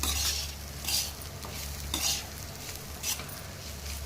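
A spoon stirs meal maker curry in a pan, scraping in a few rhythmic strokes over a continuous low sizzle and background hum, close and fairly loud with no speech.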